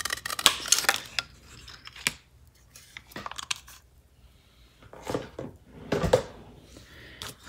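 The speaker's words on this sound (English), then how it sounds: "You could just fold it and cut it." Scissors snip through paper bookmark tails during a junk journal craft, a series of sharp, close cuts in bursts with quieter handling noise between them.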